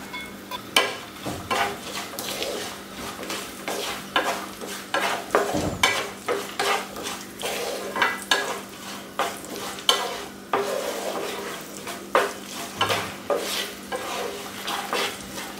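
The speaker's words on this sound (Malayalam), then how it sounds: "ഇത്രയും ആഡ് ചെയ്തിട്ട് ഞാൻ ഒന്നുകൂടെ മിക്സ് ചെയ്യാണ്" Kerala-style chivda, a flattened rice mixture, stirred in a pan with pink salt and sugar after the heat is off, giving repeated rhythmic scraping and rustling strokes that run steadily throughout.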